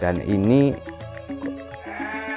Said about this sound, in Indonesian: ada domba doper betina dan domba doper pejantannya satu